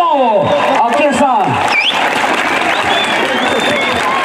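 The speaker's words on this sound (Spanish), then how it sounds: "¡Vamos a echarle el aplauso, motívelo al paisano!" Crowd applauding and cheering at a Mexican jaripeo rodeo, a loud sustained clatter of clapping with a voice calling out over it near the start.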